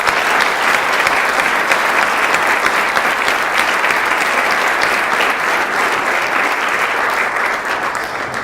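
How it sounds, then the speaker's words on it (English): Sustained applause from a large audience at a holiday party, dense and loud throughout, easing slightly toward the end. "I want to clap and congratulate everything that you guys have done"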